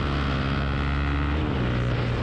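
A KTM 390 Duke single-cylinder motorcycle engine droning steadily at high revs, loud and continuous with a slight pitch shift, no voices over it.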